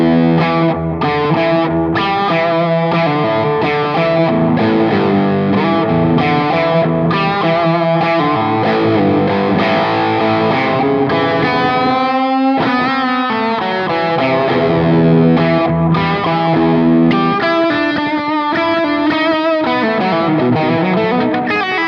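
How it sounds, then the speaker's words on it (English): An electric guitar runs through an ARP 87 delay pedal, playing distorted sustained chords and melodic lines whose notes ring on and repeat, loud and continuous throughout with no talk. "now we'll turn on the ARP 87 delay."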